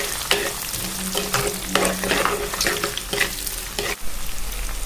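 Steady sizzling of onions frying in a pan for fish curry, with repeated scraping and stirring strokes from a spoon throughout, close and fairly loud.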